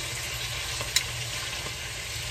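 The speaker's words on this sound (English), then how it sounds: "I'm going to turn them over and cook them for an additional 4 minutes." Sausages fry in a pan, a low, even sizzle running throughout with one small clink of tongs as they are turned, heard up close without talk.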